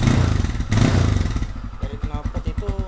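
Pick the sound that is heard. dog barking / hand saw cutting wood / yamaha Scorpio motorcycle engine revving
yamaha Scorpio motorcycle engine revving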